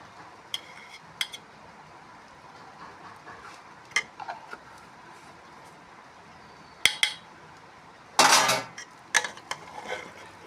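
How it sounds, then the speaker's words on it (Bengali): A lid is set over a pot of pulao after ghee is added, giving a few scattered light clinks and then a louder metallic clatter as it settles, with quiet kitchen background in between. "এখন আরেকটু ঘি দিয়ে আমি এটাকে ঢাকা দিয়ে দেবো।"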